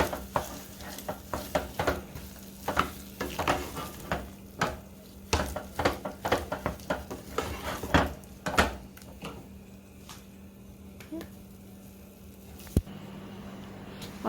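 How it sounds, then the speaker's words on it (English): Enchilada pie filling seasoned with cumin powder sautéing in a pan, quiet sizzling under repeated scraping and knocking strokes of a spoon, the stirring easing off toward the end. "And just saute a little bit."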